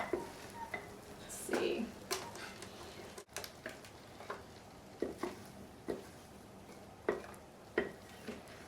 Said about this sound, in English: So now it's just time to scoop it.